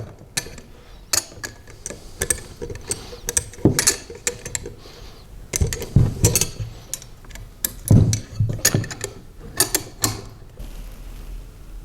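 Bolts on a mower axle being tightened for a striping kit with a 9/16 wrench and a 7/32 Allen key, heard as close, irregular metallic clicks, ratcheting ticks and clanks in quick bursts.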